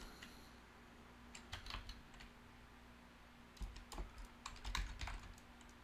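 Computer keyboard typing in quiet bursts of rapid key clicks, close but faint, with pauses between clusters and no speech.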